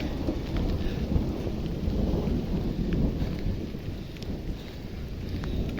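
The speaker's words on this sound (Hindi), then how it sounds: "नीचे कम थी और ऊपर तेज़ बारिश हो रही है।" Heavy rain pours steadily on a mountain in Kashmir during a hike, a dense, loud hiss with low rumbling underneath.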